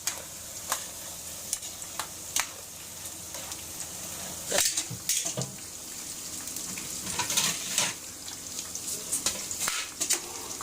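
Garlic sizzling in hot oil in a home kitchen beside a garden: a steady crackling fry with occasional stirring scrapes, near and moderately loud, with no talking over it.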